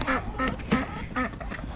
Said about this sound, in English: these are the ducks, the babies